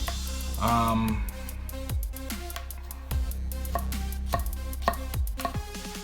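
A chef's knife cuts through a tomato onto a board, a handful of firm close chops spaced irregularly over a low background hum, no clear speech.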